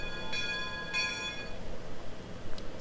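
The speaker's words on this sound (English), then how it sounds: "Same bell." Locomotive bell of a WVRR 2-8-2 steam locomotive in the Trainz 2019 railroad simulator, two bright ringing strikes with a short decay over a low rumbling background, moderately loud.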